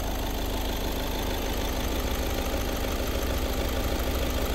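A 2014 Volkswagen Vento Highline with its original 1.6 engine idles in an even, continuous hum with a faint ticking texture, steady and close, with no talk.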